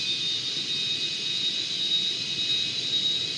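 Steady high whine of an F-18 jet engine in Microsoft Flight Simulator, a continuous loud airplane drone with no pauses and no talking over it.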